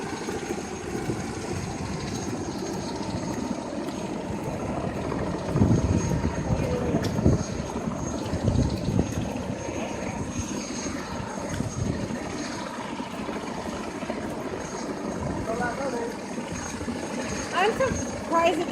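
A University Medical helicopter takes off nearby, its engine and rotor roaring loud and steady with throbbing blade chop swelling as it lifts; people talk over it.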